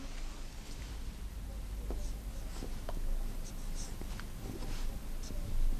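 A pen scratches out Ottoman script by hand, with close, dry strokes and small taps coming in short bursts and pauses against quiet room noise, and no talking.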